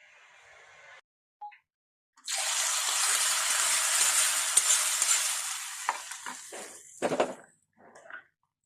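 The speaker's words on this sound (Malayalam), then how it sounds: "എണ്ണ ഒഴിച്ച് കടുകിട്ട് പൊട്ടിക്കാം" After a near-silent start, mustard seeds suddenly burst into loud, crackling spluttering in hot oil that fades into scattered pops.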